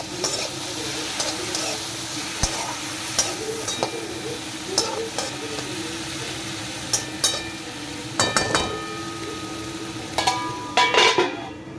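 Chire pulao, flattened rice pilaf, being stir-fried in a pan: a steady sizzle runs throughout, with scattered spatula scrapes and clinks against the pan, close and fairly loud.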